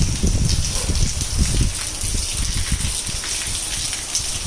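Heavy morning rain pours steadily over farm fields, a dense continuous hiss and patter that stays loud throughout with no voices.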